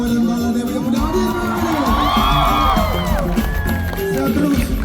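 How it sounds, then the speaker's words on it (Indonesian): A concert crowd at a show at a Makassar music festival cheers and shouts loudly, a dense roar with whoops and rising and falling voices, clapping barely audible underneath. "Tepuk tangan untuk Baladewa dan Baladewi yang udah hadir."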